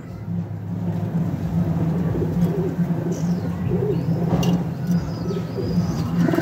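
A female pigeon coos softly nearby against a steady low hum, with faint chirps and a distant car in the background.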